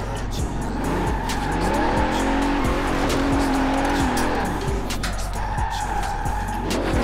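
A heavy Bentley Turbo R limousine with a 6.75-litre engine drifts in Forza Horizon 4, its engine roaring loudly as tires squeal and skid continuously with rising and falling revs.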